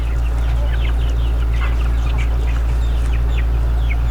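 Native chickens cluck in scattered bursts over a loud, constant low hum, with several birds calling at once and no voices.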